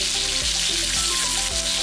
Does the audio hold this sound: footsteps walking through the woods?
no